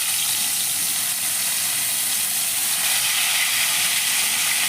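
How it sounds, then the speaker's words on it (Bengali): Koi fish frying in hot oil in a wok, a loud, continuous, even hiss of sizzling oil close by with no talk. "দুটো তিনটে করে ভেজে নিচ্ছি"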